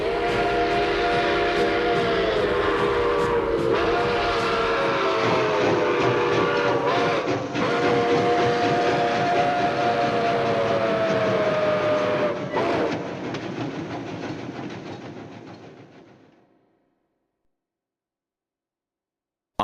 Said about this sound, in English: The Polar Express let out a loud blast from its whistle and sped away.